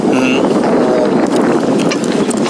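Rushing wind and water noise around a sailboat under sail on western Long Island Sound in February, loud and close, with buffeting gusts against the microphone.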